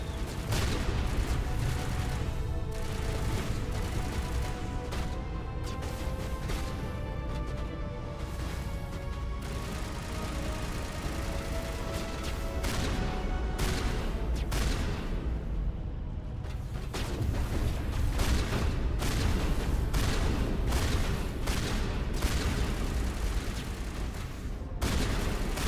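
Dense gunfire fills a battle in the video game Mass Effect, with rapid overlapping blasts and mechanical clatter, loud and continuous throughout.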